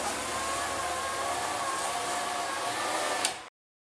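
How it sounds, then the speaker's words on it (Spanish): Electric power window on a Fiat 147 lowering its glass, a steady whirring motor hum running for about three and a half seconds with a slight rise near the end before cutting off abruptly. "ahora sí, para bajar el vidrio"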